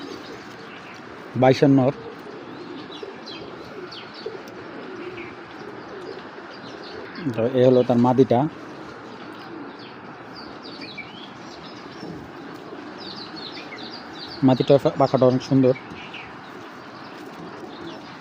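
Medium-sized racer pigeons coo in three short bursts spaced several seconds apart, close by, while someone talks about the birds throughout.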